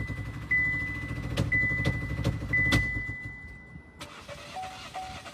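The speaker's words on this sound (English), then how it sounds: "Came out to the car, opened it up, it's still trying to start." A Jeep Wagoneer S all-electric car keeps trying to start on its own, giving a steady low mechanical hum with a recurring high electronic tone and several sharp clicks or thumps, close by with no talking.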